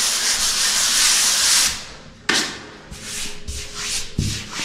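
Sandpaper rubs by hand over a freshly filled spot on a wall, a steady gritty scrape for over a second, then a pause, a sharp knock and several shorter sanding strokes up close.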